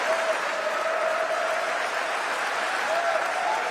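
An audience claps steadily for a final speaker, a dense, even round of applause with a faint voice rising briefly above it.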